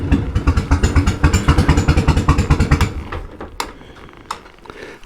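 A 1988 Harley-Davidson Heritage Softail with a sidecar runs up close, its engine pulsing in a loud, rapid rhythmic thump that drops to a quieter idle with clicks and clatter after about three seconds.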